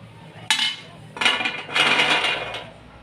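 Roasted nuts clatter and scrape against a metal kadhai as they are moved onto a plate, several bursts of clinking over a few seconds, close by.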